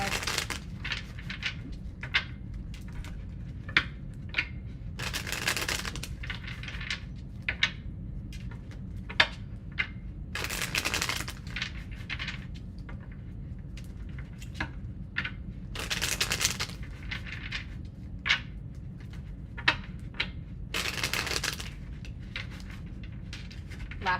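Tarot cards being shuffled by hand, with repeated brisk riffling bursts every few seconds over a steady background hum, plus softer card handling clicks in between.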